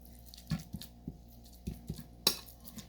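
Mayonnaise, about 1.5 tablespoons, is stirred into a bowl of fajita filling, giving a sparse series of soft clinks and wet taps from the utensil, fairly quiet, with one sharper knock near the end.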